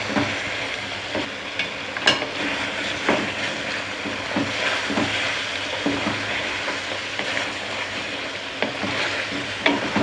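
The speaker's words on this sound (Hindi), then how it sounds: "ये देखिए मसाला फ्राई हो रहा है" Green masala paste fries steadily in hot oil for a chicken dish, a continuous close sizzle with periodic scraping stirs and occasional sharp taps of the spoon against the pan.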